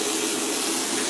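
A leaky faucet runs steadily in a public restroom, giving a constant, close, loud hiss of flowing water with no break over the short stretch.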